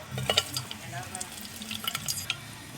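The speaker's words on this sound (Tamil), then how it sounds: "ஸ்பைசஸ் எல்லாமே பொரிஞ்சிடுச்சிங்க" Whole spices fry in hot oil in a pan for peanut biryani, giving light, scattered crackles and soft sizzling pops, close but fairly quiet.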